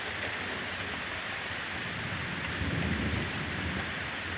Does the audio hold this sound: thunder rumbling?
yes